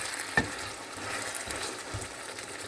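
Potatoes frying in oil in a home kitchen give a steady, soft sizzle with a few faint clicks and stirring taps, fairly quiet and without voices.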